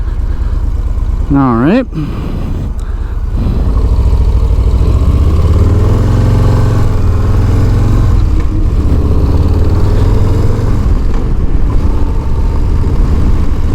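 A 2022 Harley-Davidson Low Rider S motorcycle engine runs with a steady, deep low rumble throughout, while someone talks over it.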